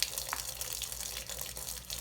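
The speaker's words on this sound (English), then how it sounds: "Run your water, making a lot of splashes here" Tap water runs steadily into a sink while cosmetic makeup brushes are rinsed, making a continuous close splashing hiss with small surges and no voices.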